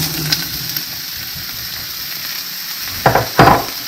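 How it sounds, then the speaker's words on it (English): Three cups of celery frying in olive oil, a loud close steady sizzle with a couple of sharper bursts of crackle and stirring toward the end. "So we put in 3 cups of celery. And we're going to cook this for a few minutes,"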